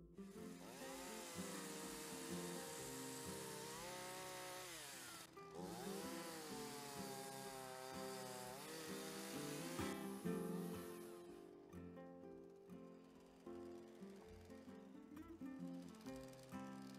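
A chainsaw cuts wood for carving off the grid in Portugal, its engine whining loud and close, pitch dipping and rising as the blade bites and eases, then settling to a rougher lower drone toward the end; no speech.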